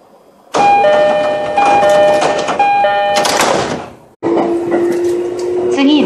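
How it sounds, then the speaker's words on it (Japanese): A JR East Shonan-Shinjuku Line rapid train to Utsunomiya gives a door-closing chime at Kuki station: a steady melodic tone that runs loud for several seconds. A train announcement is spoken over it, and a second, lower tone follows after a brief gap. "番線ドアが閉まります。"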